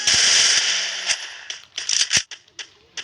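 Sharp, loud gunshots from a shooting video game, opening with a sustained burst and then several separate cracks with short gaps between them.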